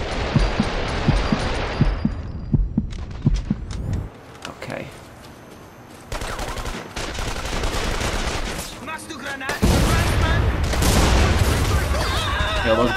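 Grenade blasts and rapid gunfire from The Saboteur game ring out in loud, dense bursts with heavy booms, fading briefly around the middle before surging back louder; a voice talks over parts of it.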